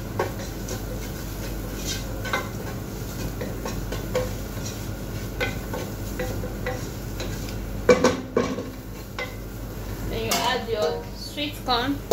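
Food seasoned with salt is stirred in a pan as part of a healthy meal, with intermittent scraping and clinking of a utensil against the pan over a low steady background, plus a cluster of louder clatters partway through.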